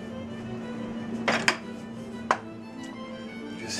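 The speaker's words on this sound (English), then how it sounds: "Next I'm going to take the sauce and put it back into the pot." Vodka sauce for penne poured back into a cooking pot, a couple of sharp metallic knocks and a scrape over a low steady kitchen hum, close and fairly quiet.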